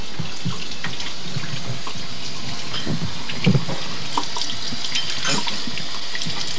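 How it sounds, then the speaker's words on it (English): Tap water runs steadily into a sink while hands are washed in a home kitchen, a continuous near splashing stream with small drips and clatter, a child nearby. "You washing your hands, Ben?"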